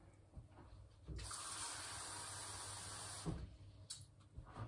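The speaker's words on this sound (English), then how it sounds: "So there's 1 cup of water going in." A cup of water pours into a cooking pot in a steady gush lasting about two seconds, with a few faint clatters before and after.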